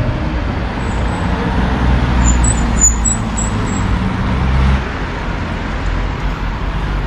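Steady road traffic on a street in Tirana, Albania: a continuous broadband wash of car and bus engines passing at moderate distance, with a few brief high chirps partway through, and no voices.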